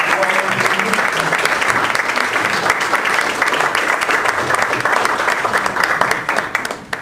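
Sustained applause from a seminar audience after a talk, dense and steady clapping throughout before tapering off at the end.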